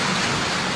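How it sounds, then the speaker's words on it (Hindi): Heavy rain falls in a forest during a thunderstorm, a dense, constant broadband hiss with no individual thunderclap, lasting under a second. "पिछले करीब 4 घंटों से बारिश हो रही है और बिजली चमक रही है, बादल गरज रहे हैं"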